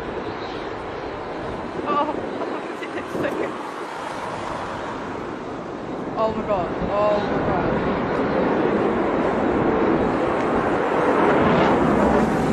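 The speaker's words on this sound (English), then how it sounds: "This F-22 doing a vertical takeoff." Roaring jet noise from an F-22 fighter lifting off, a broad powerful rumble that swells and grows louder through the clip while a person exclaims in excitement over it.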